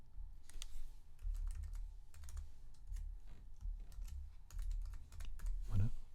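Steady typing on a computer keyboard while filling in a form field, a continuous run of soft, close keystrokes over a low background hum.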